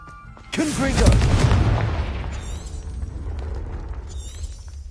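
A Confringo fire spell explodes in Hogwarts Legacy: an abrupt loud blast with crackling debris that slowly decays into a rumbling tail, and faint chiming effects follow.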